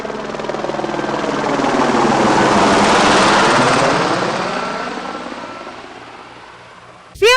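A helicopter passes overhead with a loud, pulsing rotor roar that swells to a peak and then slowly fades, ending with a brief sharp sound.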